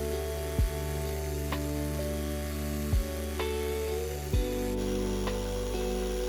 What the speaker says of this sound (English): Here I'm hollowing out final little bits of the bowl.